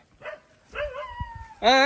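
A domestic dog at a mango farm gives a couple of short yips and a whimpering bark, close by, mixed with human voices.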